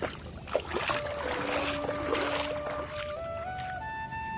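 A boat moves on the Jamuna river, with water sloshing and gurgling alongside tonal engine or horn-like hums that shift pitch, heard fairly close amid outdoor ambience.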